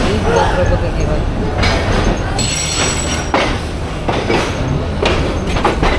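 The Agnibina train leaves Gafargaon railway station, its wheels rumbling and clattering loudly up close, with high squeals and rhythmic clacks, while people talk over the noise.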